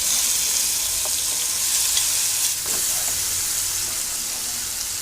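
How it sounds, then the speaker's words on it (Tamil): Marinated chicken fries in a little oil in a pan with a dense, steady sizzle and crackle. It continues unbroken throughout, with faint stirring, and no voices. "பேனில் கொஞ்சமாக எண்ணெய் விட்டுருக்கேன் சிக்கன் பொரிக்கிறதுக்காக"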